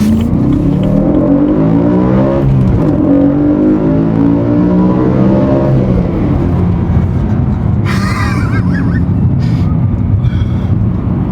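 A BMW E92 M3 engine with an Eventuri carbon intake and plenum revs up and climbs in pitch, drops, then holds a rough, aggressive growl, loud and close, with brief higher-pitched whine near the end.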